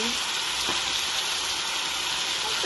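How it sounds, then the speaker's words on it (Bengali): Chicken meat sizzling as it goes into a pan of fried spices, a steady loud hiss and crackle filling the clip with a faint clink near the start. "মশলা বোনা হয়ে গেছে, মাংসগুলো দিয়ে দিতেছি।"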